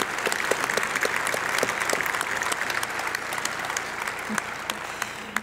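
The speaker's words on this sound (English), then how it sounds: "Big round of applause for all of our amazing sponsors" Steady applause from a gala audience honoring event sponsors, a dense wash of many hands clapping at moderate distance with scattered sharper claps standing out, sustained evenly throughout.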